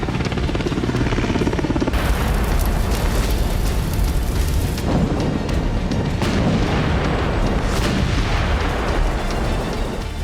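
Russian missile strikes on a Ukrainian war ground: loud, continuous rumbling blasts and artillery fire with repeated heavy booms and a roaring, churning background throughout, no voices.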